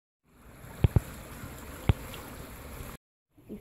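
Faint, steady running water rushes and trickles at low level for about three seconds, broken by a few close, sharp thumps, then cuts off briefly.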